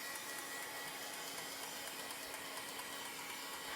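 A heat tool warming up to set chalk paste hums as a constant, faint fan-like whoosh with a low steady drone, unbroken and alone for a few seconds.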